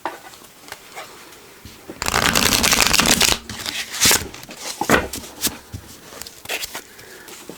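A tarot deck with a smooth matte finish is shuffled up close, with a dense burst of riffling cards in the middle and softer slides, taps and card flicks before and after.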